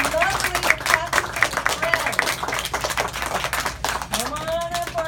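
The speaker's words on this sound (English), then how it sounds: "I love when you're clapping" Children at a kindergarten graduation clapping for their friends, an uneven patter of small-hand claps running throughout, mixed with voices talking and calling out over it.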